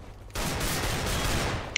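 Gunfire in the video game CS:GO breaks out as a dense, loud burst of rapid shots lasting over a second. A faint sharp click sounds at the end.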